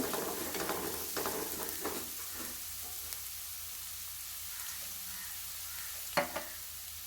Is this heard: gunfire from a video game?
no